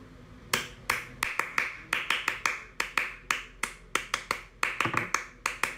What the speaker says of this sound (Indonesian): Tepuknya kayak tepuk pramuka